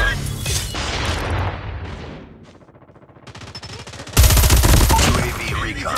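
Rapid automatic gunfire and booming shots from a Call of Duty multiplayer Domination match on the Standoff map, loud bursts that thin out midway and then return in a dense, continuous barrage.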